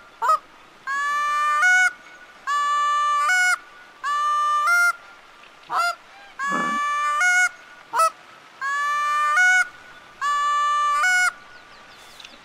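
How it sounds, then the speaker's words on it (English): A goose honks in The Hunter: Call of the Wild hunting video game, with loud, nasal calls repeated in regular bursts about every second and a half, close and clear against a quiet background. "It's a goose"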